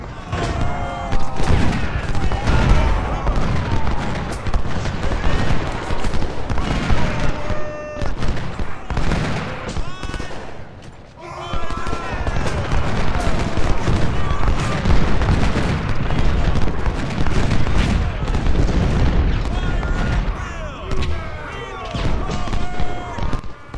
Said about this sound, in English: Then Kemper and Crocker can fire flanking shots from the fort.